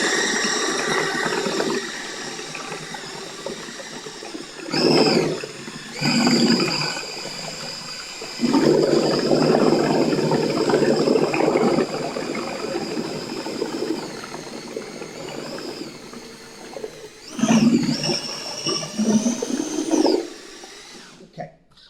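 Tile adhesive powder for porcelain paving being mixed into water, a steady churning, sloshing mechanical whirr in bursts that rise and pause over about twenty seconds, loud and close.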